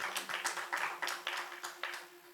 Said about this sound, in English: Please welcome, with a huge round of applause